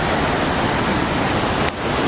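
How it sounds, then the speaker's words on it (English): A North Carolina waterfall roars as a loud, continuous broadband rush of falling water, close by and steady throughout. "We got the waterfall right here."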